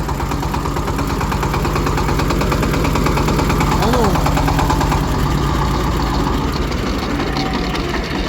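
A mini tractor engine runs loud and close with a steady rough rattle throughout, its idling drone continuous for the whole stretch, with a voice briefly audible over it.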